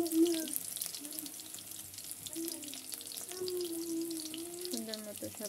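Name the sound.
frying cauliflower pakoras in oil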